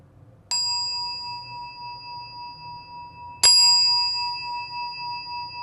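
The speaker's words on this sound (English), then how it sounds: "So here we go with the bell." A meditation bell rings twice, each clear metallic strike about three seconds apart and left to ring out with a long, sustained shimmering decay over a quiet room.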